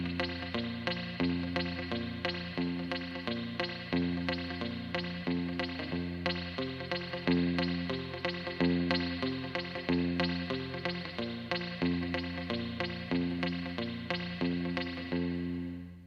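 A guitar played through a reverb unit runs a steady pattern in A, plucked bass notes and chords repeating evenly with a wet, lingering tail, alone without talk.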